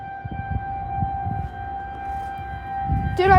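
A civil defense siren sounding a tornado warning in Illinois, a steady, sustained wail in the distance beneath low rumbling wind and handling noise, with a sharper close tone breaking in at the very end.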